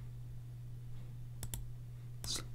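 A computer mouse clicks while points are selected in Photoshop, giving a quick double click and then one more click. The clicks are sharp and sparse over a faint electrical hum, and no one talks.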